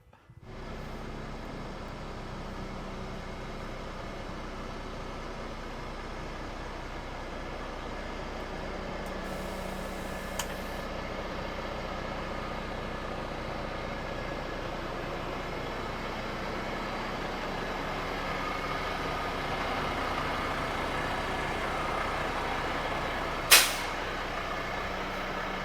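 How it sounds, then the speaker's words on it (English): A blacked-out Peterbilt 389 big rig pulls out of a shop and drives down the road, heard from inside as a steady, even engine and road drone for the whole stretch, with one sharp click near the end. "All right, so going down the road here, we just pulled out of the shop."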